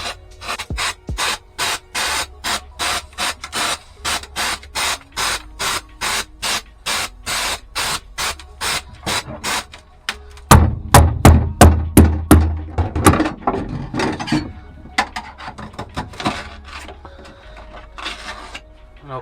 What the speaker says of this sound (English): shake up the can of air, turn the can upside down, and this